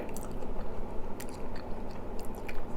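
Monthong durian being bitten and chewed up close, soft wet crunches and squishy mastication in a steady irregular rhythm, with no talking.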